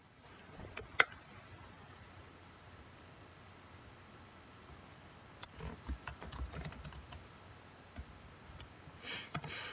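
Computer keyboard keys tapped in quick, light bursts to rename a folder, faint and close against a quiet background hiss, with a livelier cluster of keystrokes near the end and no talking.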